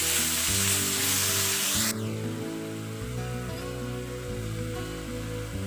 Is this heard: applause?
no